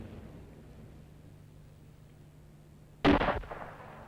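A single sharp, very loud report from a Walther PP automatic pistol cracks out after a few seconds of quiet room tone, with a brief decaying tail.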